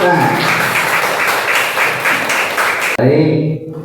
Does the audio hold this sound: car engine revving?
no